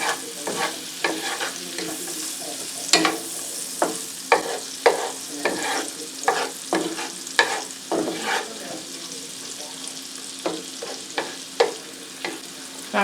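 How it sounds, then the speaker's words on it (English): Garlic sautés in a pan, a constant soft sizzle punctuated by repeated scraping stirs and utensil clicks, close and fairly quiet, with no voices. "Garlic cooks really, really quickly. So, you just don't want it to burn. So you want to go ahead, saute that."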